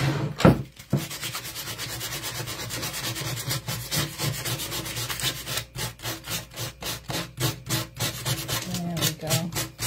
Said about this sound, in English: I'm going to take a piece of sandpaper to it.